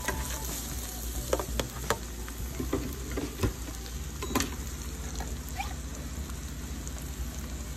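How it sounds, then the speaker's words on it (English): Mushrooms hitting melted butter in a frying pan give a steady crackling sizzle with scattered pops and stirring clicks, close and moderately loud with no talking. "I'm gonna add the mushrooms"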